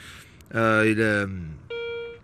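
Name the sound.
Garrett Ace 250 metal detector beeping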